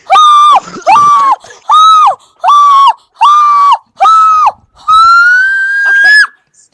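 People playing Fortnite let out a run of about seven loud, sustained screams in a steady rhythm, ending in one longer drawn-out shriek, close to the microphone.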